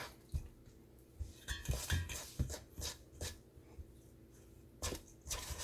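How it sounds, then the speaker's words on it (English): Biscuit dough of flour and milk is stirred in a bowl, giving faint, irregular scraping and knocking taps at close range in a quiet room. "Now I'm putting flour in as I'm stirring it."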